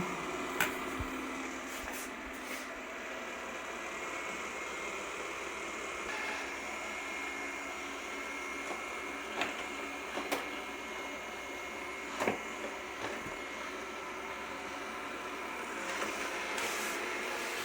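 A Yeedi Vac Hybrid 20 robot vacuum hums and whirs steadily nearby while cleaning a living room, with occasional soft clicks and bumps as it moves along.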